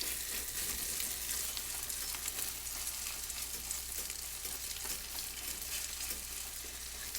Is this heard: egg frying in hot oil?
yes